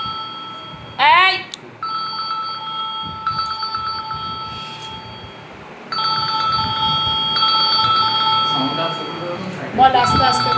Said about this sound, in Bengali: এটা কার ফোন?